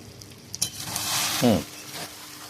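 Mutton sizzles in a wok over a wood fire while a spatula stirs it, giving a steady hiss with a few scraping strokes and a brief clink.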